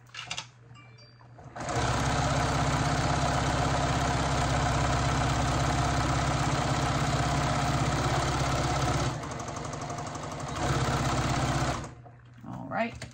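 A sewing machine stitches a seam on an apron, running fast and steady with a loud mechanical whir for about ten seconds, easing briefly once mid-run before stopping, with quiet handling before and after.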